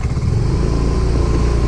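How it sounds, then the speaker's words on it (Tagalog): A motorcycle engine runs steadily up close, a continuous low throbbing rumble with no pauses or voices over the short stretch. "Dahil yung motor natin namamatay-matay minsan."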